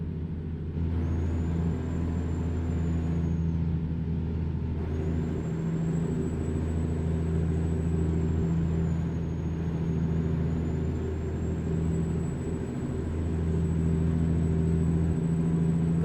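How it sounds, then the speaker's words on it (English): Air brakes on a Peterbilt 350 truck in American Truck Simulator, heard against a steady, loud engine drone with a thin high whine running over it throughout. "So I bet it's applying the brakes right now."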